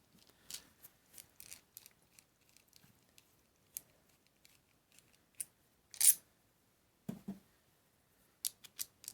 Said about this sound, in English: As you tighten this, you'll shear everything through and make your cut like that.